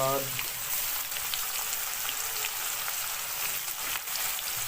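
Tomatoes frying in a pan for jackfruit curry, a steady close sizzle with crackling pops throughout, with a brief voice at the start.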